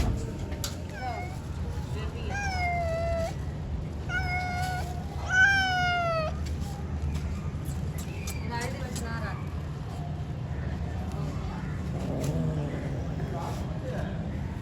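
A cat meows several times in drawn-out, rising and falling cries early on, then more faintly later, while people talk nearby over a low background hum.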